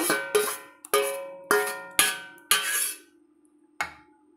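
Cooked tomato pickle being tipped out onto a metal plate, giving a run of sharp ringing clanks about half a second apart, then a pause and one last metallic knock, close and clear with no talk.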